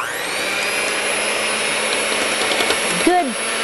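An electric kitchen mixer runs steadily and loudly through a batter of minced onions and sugar, a constant close motor whine with slight pitch wavering, briefly changing tone near the end.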